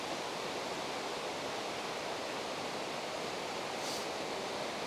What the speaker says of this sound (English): This is a big river. That feeds into the lake we were at.